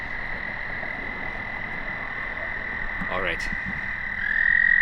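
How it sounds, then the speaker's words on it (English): Frogs croak in a boggy pond at a cemetery, a short rippling burst around the middle over steady insect-like buzzing and outdoor ambience, with someone speaking briefly. "That young gentleman said there were frogs here. I hear them."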